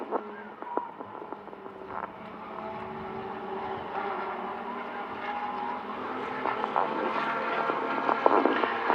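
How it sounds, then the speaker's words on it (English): Race cars circle a speedway, a continuous engine drone that swells as cars pass, with a few sharp knocks and clatters mixed in, steady and moderately loud throughout. "that car's slowing down even more down the backstretch"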